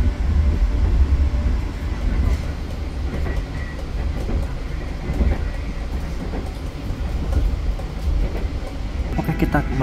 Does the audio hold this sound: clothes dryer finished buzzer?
no